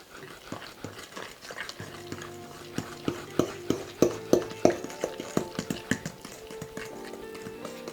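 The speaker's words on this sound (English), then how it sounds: "Let's mix to combine." Sugar cookie batter with whole milk and sugar is mixed in a bowl, giving a run of sharp rhythmic knocks and scrapes that quicken and grow louder midway, then ease off, with no talking.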